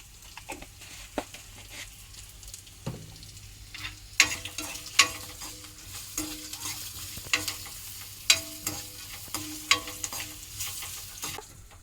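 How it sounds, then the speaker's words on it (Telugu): Spices tempering with a pinch of turmeric sizzle steadily in a hot pan, with a spoon stirring and scraping in sharp, irregular clinks over the continuous frying hiss, close and alone. "తాలింపులోనే కొద్దిగా పసుపు వేసుకుంటున్నాను"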